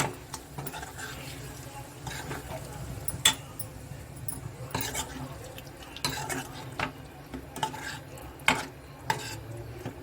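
Chicken ghee roast masala is stirred in a pan with soft, irregular scrapes and light clinks, fairly quiet and close over a low background hum.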